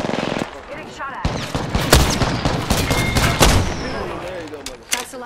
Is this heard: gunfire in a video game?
yes